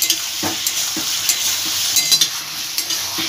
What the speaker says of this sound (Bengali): দিয়ে এটা ভালোভাবে কষিয়ে নেব।